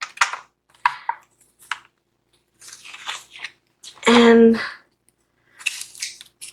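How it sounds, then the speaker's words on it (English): Scissors snip through excess paper in short, separate cuts, each a quick crisp crunch with gaps between, and one longer rasping cut midway; a single brief spoken word is heard. "I'm gonna cut the excessive paper"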